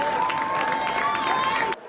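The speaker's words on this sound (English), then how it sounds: "the cheerleaders are cheering and people are clapping" Crowd of guests applauding while cheerleaders cheer as people enter the Hall of Industry at a charity holiday meal, a dense steady wash of clapping and shouts that cuts off abruptly.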